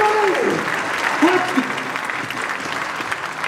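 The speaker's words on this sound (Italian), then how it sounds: "A Tiglio e Torino, un applauso!" A crowd applauds at a municipal police evening celebration in Italy, steady dense clapping with voices calling out over it near the start.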